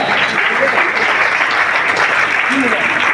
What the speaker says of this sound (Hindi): मैं चाहूंगा एक बार ऐसे शख्स के लिए जोरदार ताली हो जाए